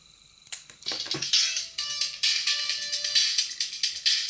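A melody comes through an amplifier built from relays, a harsh, buzzy and clicky stream of tones, loud and close, with rapid rattling pulses and no talking.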